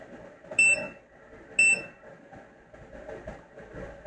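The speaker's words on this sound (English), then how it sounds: "iron is beeping." A soldering iron with a failing tip beeps twice, two sharp bright electronic tones about a second apart, over quiet room noise during a phone board repair.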